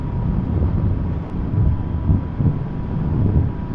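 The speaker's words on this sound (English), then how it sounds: "So it's a bit windy." Steady low wind buffeting while riding a Yamaha MT10 motorcycle, a dense rumbling roar across the clip with gusty swells and no speech.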